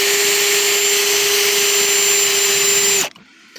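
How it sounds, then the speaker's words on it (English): A Bauer power drill whines steadily at high speed while drilling into the metal of a windshield-mounted phone holder, then cuts off abruptly near the end, loud and close with no talk. "So I'm not drilling into the plastic and only into the metal."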